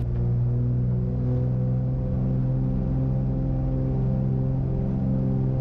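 A small airplane's piston engine runs up to takeoff power with the mixture full rich, a loud, steady droning rumble with strong low harmonics throughout, no voices.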